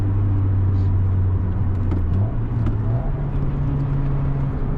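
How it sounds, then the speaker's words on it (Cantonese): The power sunroof of a 2006 Acura TSX with a manual gearbox hums steadily as it closes, its motor tone stepping up in pitch midway, all beneath a continuous interior road and engine rumble. "閂咗天窗先。"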